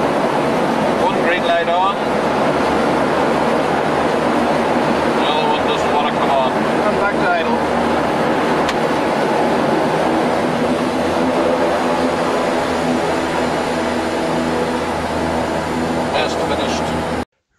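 A Short SD360 aircraft's turboprop engines roar loudly and steadily during ground checks before a first flight, with the propellers set fully into reverse. Brief cockpit talk is heard over the constant engine noise.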